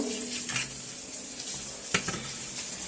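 Onion and fish frying together in a pan, a close soft sizzle with a few stirring scrapes and clinks over three seconds, no talking.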